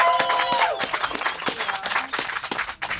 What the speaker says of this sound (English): We should give her a real quick round of applause.